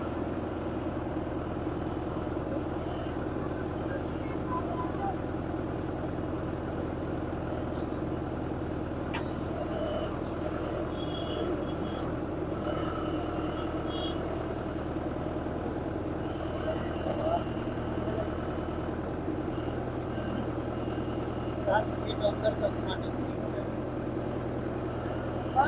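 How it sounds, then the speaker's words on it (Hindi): A tractor fitted with a JCB-style digging attachment works barren ground, its engine holding a constant, unwavering drone throughout, with occasional clanks and scrapes from the digging over the steady rumble. "ये बहुत बंजर जमीन है और उसको ये खनने में जरा सा भी ट्रैक्टर का जो आरपीएम है वो ड्रॉप नहीं कर रहा है"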